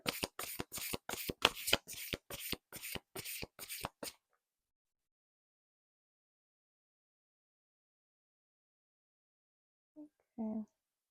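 Tarot cards riffle-shuffled in a quick run of about a dozen crisp, close bursts, then silence, with a brief voice near the end.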